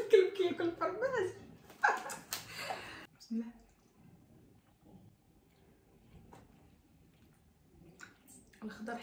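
A dog barks and yips in a few quick, close bursts at the start, mixed with a person talking, then only faint rustling and low background noise follow.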